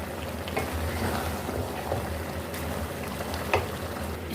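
Beef bhuna masala with cumin and green chillies frying in a pan: a steady, soft sizzle and crackle with faint stirring clicks throughout, fairly quiet and with no talking.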